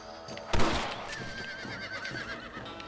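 Horse in the Red Dead Redemption video game giving a clear, wavering neigh after a sharp thump, with quiet game ambience around it.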